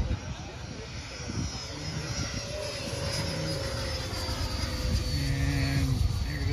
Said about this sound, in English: Three airplanes bunched up there.